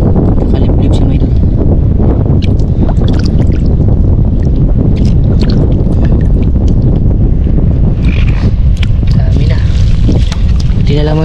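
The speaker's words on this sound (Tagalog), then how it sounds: "Dinig yun naman mga idol, sumisipol yung hangin, tumatagho yung hangin." Strong wind roars and buffets across the microphone at a seashore where shells are being gathered, loud and continuous, with faint whistling gusts on top and a voice talking faintly underneath.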